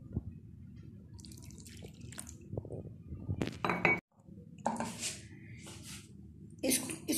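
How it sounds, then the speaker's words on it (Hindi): Water is poured in and stirred into thick spinach pakora batter in a bowl, with wet dripping, squelching mixing sounds and clinks of a utensil against the dish. "साथ साथ पानी डालते जाएंगे और इसको मिक्स करते रहेंगे।"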